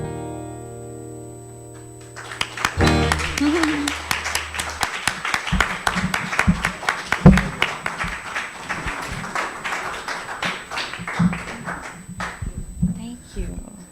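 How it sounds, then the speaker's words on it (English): An audience at a Sunday church service claps after a song, a sustained round of applause rising in and lasting about ten seconds, with voices and a few cheers mixed in. "Let's give him another round of applause."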